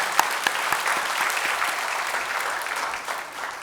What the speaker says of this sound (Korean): 이분들에게 다시 한번 감사의 격려의 박수 드렸으면 좋겠습니다.